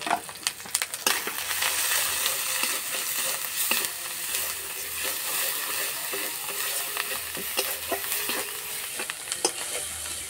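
Ground turmeric, cumin and chilli powder with a little sugar being stirred and fried in a pan for an omelette curry, a steady close sizzle broken by scraping spoon strokes and occasional knocks against the pan, with no one talking.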